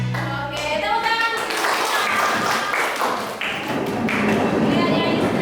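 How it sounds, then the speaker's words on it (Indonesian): Children clap their hands together in a school classroom, a dense, steady patter of many hands lasting several seconds, with voices mixed in near the start. "Oke, tepuk tangan."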